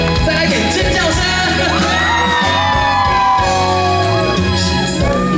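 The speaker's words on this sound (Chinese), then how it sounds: "再来点尖叫声！" A crowd at an outdoor stage concert during a temple festival celebration in Taixi screams and whoops loudly and continuously, with sharp overlapping high yells rising above a dense roar.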